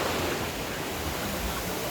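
Steady broadband wash of surf rolling onto a beach, constant and fairly loud with no distinct breaks.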